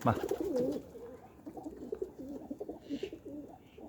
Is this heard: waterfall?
no